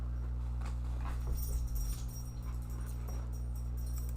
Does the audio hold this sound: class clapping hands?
no